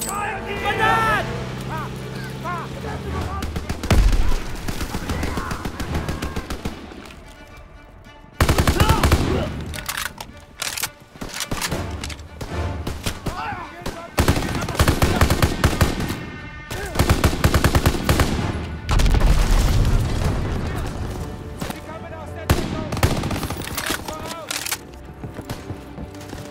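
Heavy battlefield gunfire in Call of Duty WWII on the Rhine mission: loud, continuous machine-gun bursts and rifle shots mixed with explosions, with shouted voices heard throughout the firefight.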